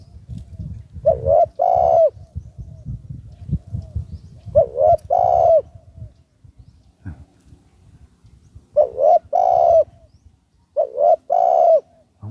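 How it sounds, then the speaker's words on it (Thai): Four loud, near phrases of spotted dove cooing, each a pair of rounded notes, arrive at irregular intervals over low rustling and handling noise outdoors where a trained dove is being used to lure others. "นี่เสียงนกปลาคู่แล้วครับผม"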